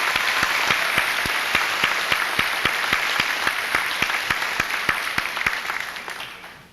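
Steady, dense applause from a school assembly audience, many hands clapping together at close range with no voices over it, holding strong for several seconds before fading at the end.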